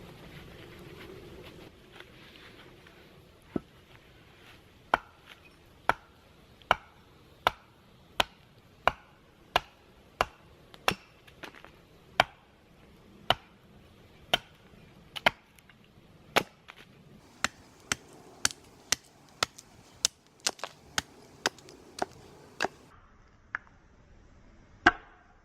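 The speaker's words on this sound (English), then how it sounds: "Now we're going to take our axe and chisel as much of this handle down as we can." A steel axe chops down the handle of a wooden batoning stick, giving a long series of sharp, evenly spaced knocks that grow quicker toward the end, each one close and distinct over a quiet outdoor background.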